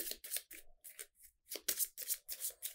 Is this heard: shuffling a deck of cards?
yes